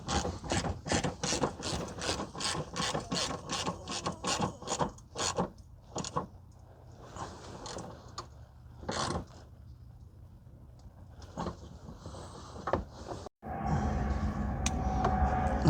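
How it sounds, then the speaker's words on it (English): A hand ratchet tightens bolts while the vapor canister filter is replaced on a 2011 Kia Forte 2.4, giving rapid rhythmic clicking up close, then slower scattered clicks and scraping. "We're going to start tightening up the bolts."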